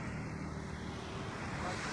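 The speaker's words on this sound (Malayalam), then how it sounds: "നല്ല ഒഴുക്കുണ്ട് വെള്ളം" Floodwater flowing strongly in the monsoon rains near a village, a steady, dense rushing roar with wind buffeting the microphone, continuous and fairly close throughout, no voices.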